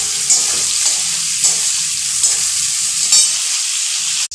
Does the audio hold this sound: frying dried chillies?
yes